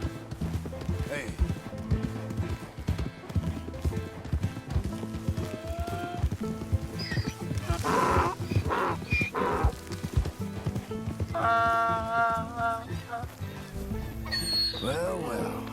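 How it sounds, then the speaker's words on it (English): A horse in the Red Dead Redemption 2 video game clops its hooves and whinnies, the hoofbeats running steadily under frequent talking and game music, with a neigh standing out near the end. "Ain't you a good horse?"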